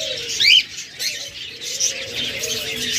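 A caged pair of green Fischer's lovebirds gives shrill, chattering calls, with a couple of sharper squawks standing out over a steady twittering background.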